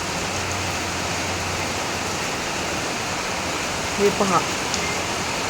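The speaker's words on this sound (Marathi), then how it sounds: "बघा कसला पाऊस पडायला लागला." Heavy monsoon rain on a red-alert day pours in a dense, unbroken hiss, with a person speaking briefly near the end.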